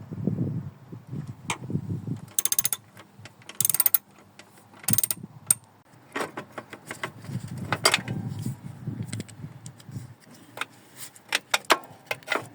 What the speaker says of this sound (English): I think the easiest way to do this is with a spanner on the back and a socket on the front.